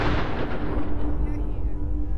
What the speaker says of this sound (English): These explosions, my god.